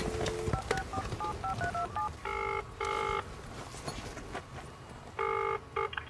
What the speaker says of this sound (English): make the phone call to Billy and set him up.